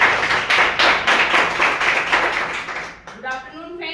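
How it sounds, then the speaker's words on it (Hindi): An audience at a business presentation event in Muzaffarnagar claps in a burst of rhythmic, fairly close applause that tapers off into someone speaking. "मैं चाहूंगा एक बार जोरदार तालियां आरती जी के लिए"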